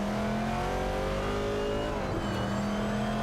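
Race cars in an AI racing video game roar steadily as engines accelerate, a dense continuous drone with pitch sliding down then settling as gears change.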